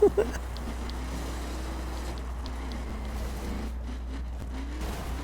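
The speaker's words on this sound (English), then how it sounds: "I can't keep the truck straight. I keep sliding every time I hammer the throttle." A truck engine in a video game drones under hard throttle, its pitch wavering up and down as the truck slides, with a faint hiss of tires.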